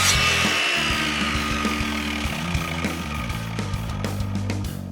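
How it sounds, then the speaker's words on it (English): Compound miter saw running continuously as it cuts small pieces of wood about 60 millimeters long, a steady loud whine with rasping blade-on-wood texture across the whole stretch, with no voices. "Again, using the miter saw, we cut small pieces out."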